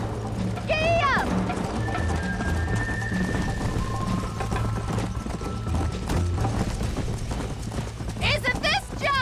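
Horses gallop in the Old West video game Red Dead Redemption, a steady rhythmic clip-clop of hooves under a rain-like wash, with sharp voice-like calls near the start and end.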